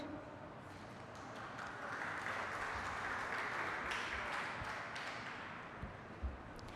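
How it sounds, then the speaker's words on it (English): Applause at a nursing college celebration as people come forward to the stage, a moderately soft, sustained patter of clapping from a crowd with a few stray knocks near the end. "Let's give them a big round of applause as they come forward to the stage."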